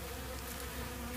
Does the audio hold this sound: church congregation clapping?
no